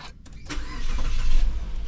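A Mitsubishi Xpander car engine starts up close by, a short crank quickly catching into a running engine, loud and alone.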